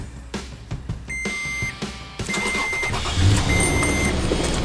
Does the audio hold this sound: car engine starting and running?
yes